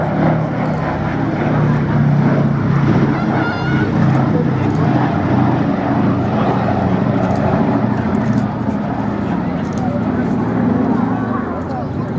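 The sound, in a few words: B-17 Flying Fortress 'Sally B' aircraft engines flying past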